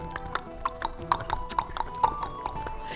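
Horse hooves clip-clopping in a steady, fairly quick rhythm at moderate distance, faint and alone.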